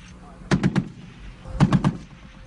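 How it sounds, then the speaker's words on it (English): A 50-caliber heavy machine gun mounted on a Stryker armored vehicle fires two short bursts of three heavy, booming rounds each, spaced about a second apart, with narration underneath. "heavy machine gun"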